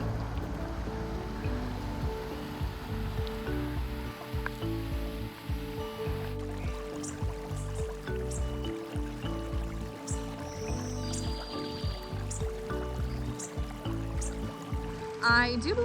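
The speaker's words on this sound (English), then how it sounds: "it's right next to this gorgeous babbling brook" Babbling brook flowing beside a mountain overlook: continuous rushing, trickling water close by, steady and fairly loud, with faint wind and scattered small sounds mixed in.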